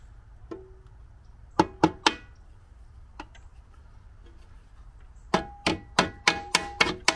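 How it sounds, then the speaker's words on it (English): Hammer tapping pins into a boat trim tab actuator, a few sharp metallic strikes early on, then a quicker run of about seven close taps near the end. "hammer the pins into place at the top and the bottom of the actuator"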